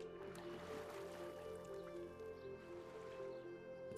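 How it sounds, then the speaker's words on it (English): A seed tossed into water in the video game Shape of the World makes a soft splash and drip over a steady layer of sustained musical tones, with no talk. "What happens if you throw a seed in the water?"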